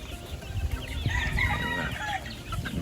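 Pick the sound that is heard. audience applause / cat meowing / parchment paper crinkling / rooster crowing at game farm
rooster crowing at game farm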